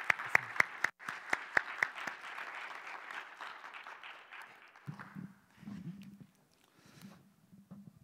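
A church young adults' group claps in welcome for their new department deacon, a burst of scattered applause that fades over several seconds, followed by faint low speech.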